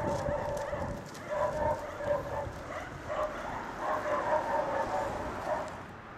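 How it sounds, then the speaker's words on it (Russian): Stray dogs bark repeatedly in the open air of a Donbass street, the yaps coming in uneven bursts at a moderate distance, with faint background noise and no talking. "Очень много собак бегает."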